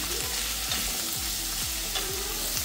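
Paneer cubes sizzle steadily in hot ghee in a kadhai, a constant close crackle with a ladle scraping and stirring the pan in a repeating rhythm.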